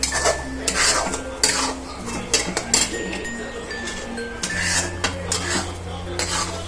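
A spoon scrapes and clinks against a pan as a mango ladoo mixture with a little ghee and melting sugar is stirred, giving irregular metallic taps and rattles over a low background.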